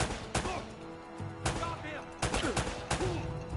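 Gunfire in Uncharted: Drake's Fortune: several sharp, loud shots at uneven intervals, with bursts clustered near the middle and end, over game ambience and some talk.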